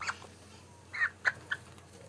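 A chicken in the Dragon Age Origins video game gives a few short clucks, three quick bursts close together after a lone opening peep, fairly faint over a quiet background hum.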